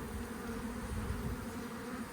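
A five-year-old honey bee colony buzzes during relocation, a dense, steady hum of many bees droning close by with a sustained low tone, continuous and unbroken, without talk.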